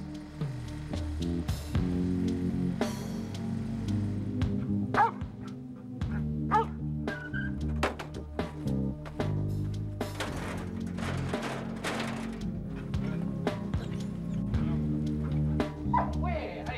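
A rescue dog yips and barks in short, excited bursts with occasional whimpers, near the microphone, while a voice talks intermittently over the scene.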